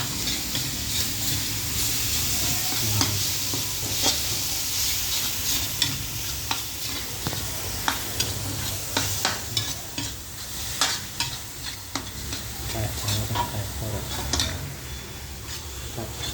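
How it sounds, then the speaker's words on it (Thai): Pork stir-fries in a hot pan for pad kra pao, a loud continuous sizzle with repeated scraping and tapping of a spatula on the pan, close and with no talking. "รวนหมูให้สุก"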